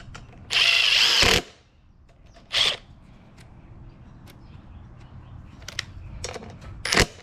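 Power drill driving bolts to fasten parts on a Harbor Freight 8-gallon air compressor during servicing: a loud whirring burst about a second long, a shorter second burst, then scattered clicks and light clanks of parts being handled nearby.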